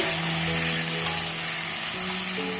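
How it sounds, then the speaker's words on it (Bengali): Potatoes frying in hot oil in a pan with bay leaf and a dried red chilli, giving a steady, loud, close sizzle that runs unbroken throughout, without any talking. "আলুটা এবার ভাজা করবো"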